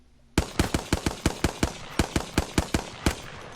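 Hemlok rifle in an online shooter game fires in single-shot mode, a steady run of about sixteen sharp, loud reports in quick even succession, each crack decaying briefly before the next.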